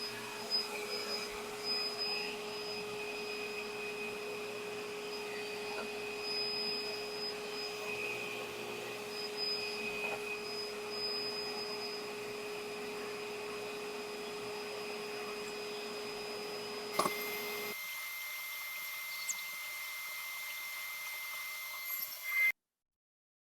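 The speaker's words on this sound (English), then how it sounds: "I'm going to put it on the buffing wheel and see how it looks after that." A buffing wheel motor runs steadily while a big walnut tobacco pipe with a plateau rim is polished, a constant whirring hum with a few brief scrapes, then it cuts out near the end.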